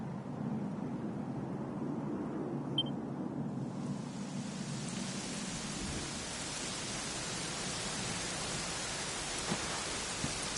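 Steady, dense video game rainfall in Dragon Quest XI hisses without a break, close and fairly loud, with no voices or other distinct sounds.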